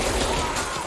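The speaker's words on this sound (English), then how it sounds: "they're shooting through the windows" In the video game Control, enemies fire through windows in a burst of gunfire that fills a brief, loud, dense moment of rattling shots.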